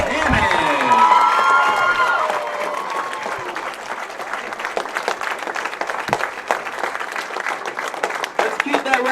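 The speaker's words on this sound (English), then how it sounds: "Let's give a round of applause for our U18 Girls Division 2021 Junior Gold Champion" Spectators at a junior bowling stepladder final applaud and cheer for the under-18 girls' champion, loud at first and then settling into steady clapping with scattered shouts and background chatter.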